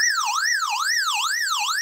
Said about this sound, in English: So this is the emergency siren.